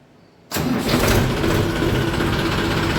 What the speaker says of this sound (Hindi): एक बार ट्रैक्टर को बाहर निकाल लेता हूँ फटाफट